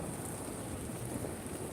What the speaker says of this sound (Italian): sento proprio dei tuoni e dei lampi, proprio che fanno paura